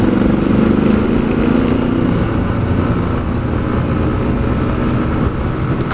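Motorbikes, a Honda Africa Twin and a Lexmoto Michigan, roaring steadily close by as they accelerate past a moped on the road to a ferry terminal, engine drone loud and continuous with wind rush throughout.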